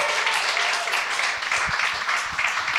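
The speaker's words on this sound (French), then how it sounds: "Vous pouvez vous applaudir, ça vous tente?" An audience at the Bordel Comedy Club applauds steadily, a dense wash of clapping that carries on throughout with little variation.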